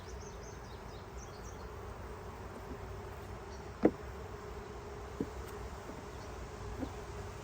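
Bees buzz around an open honey bee hive, a steady, close drone with a few sharp knocks and bumps over it.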